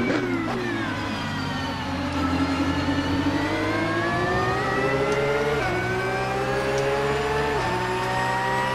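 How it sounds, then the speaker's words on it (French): Race car engine in the Assetto Corsa racing game, loud and continuous, revving up through the gears with rising pitch and brief drops at each shift. "le son du moteur."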